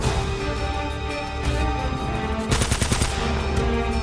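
Rapid gunfire from a shooter game set in the jungle, Uncharted: Drake's Fortune, loud bursts of shots crackling over a steady game backdrop, heaviest in the second half.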